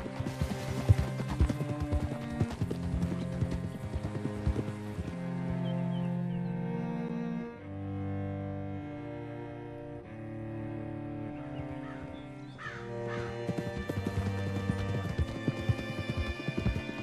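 Horse hooves clip-clop steadily in the video game Red Dead Redemption 2, mixed with prominent melodic game music that carries through the whole passage.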